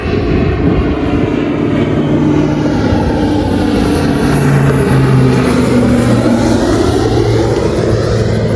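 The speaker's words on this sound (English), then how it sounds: "them guys really know how to fly them planes" A propeller airplane passes low overhead near a lakeside fishing spot, a loud, sustained engine drone whose pitch sweeps as it goes by, with no talking.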